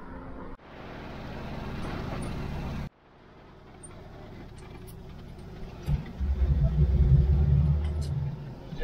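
A car pulls away on a road trip in Dagestan's Agul district, its low engine rumble and road noise steady from inside the cabin, building louder toward the end; speech is faintly present.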